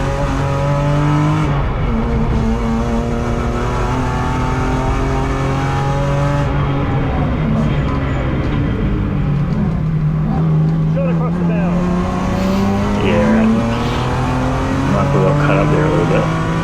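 BMW race car on a flat-out qualifying lap at Hampton Downs circuit, its engine droning loud and steady from the cockpit with pitch rising and falling through gear changes and corners, while a driver talks over it.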